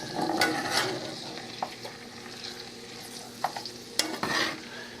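Food frying in oil in a pan for a roast beef sandwich recipe, a steady low sizzle with scattered clicks and scrapes of stirring, heard close with no talk.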